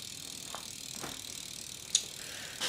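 Faint, soft freewheel ticking from the rear hub of a BMX bike on its stock wheel, running at a 25/9 gear ratio, with a few quiet clicks and a brief rattle close by.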